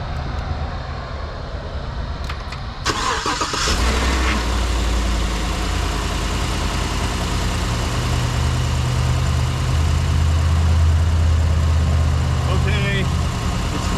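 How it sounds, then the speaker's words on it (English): A car engine cranks and catches after a battery melt fault, then settles into a steady, loud idle that hums continuously at close range, with no one talking. "And starting the engine."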